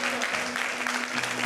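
A church congregation claps together during a sermon, giving a dense, continuous wash of many hands that stays loud and even throughout.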